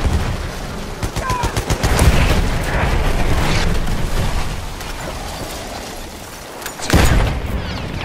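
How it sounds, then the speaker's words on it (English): Artillery barrage in Battlefield 1, loud rapid gunfire and booming explosions filling the mix, with a fresh blast near the end. "Artillery barrage to stop firing."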